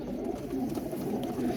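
Galodu pigeons cooing on a rooftop loft in Sialkot, a soft, low, continuous throaty warble that stays steady and close for the whole moment.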